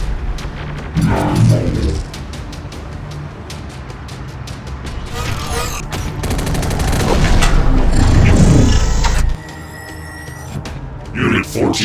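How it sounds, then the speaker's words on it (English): Heavy gunfire in the Terminator: Dark Fate - Defiance video game, with repeated shots and booming blasts under a steady din of battle, loud throughout, while a voice speaks briefly over the action. "Under heavy fire."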